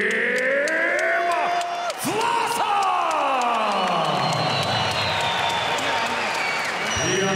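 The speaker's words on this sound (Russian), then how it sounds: "И аплодисменты его сопернику, Рахиму Чехиеву!" A large crowd applauds and cheers loudly at a professional boxing match after a knockout, with whoops and yells rising over steady clapping throughout.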